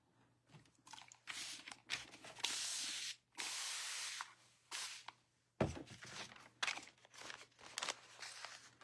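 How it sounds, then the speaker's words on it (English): Water mists from a spray bottle in a run of short bursts, each a sharp hiss broken by pauses, followed by faint handling noises nearby while velvet-powder Christmas decor is made. "I forgot to spritz it."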